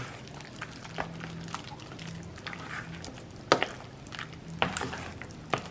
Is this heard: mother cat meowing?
no